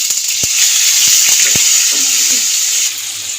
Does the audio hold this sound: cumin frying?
yes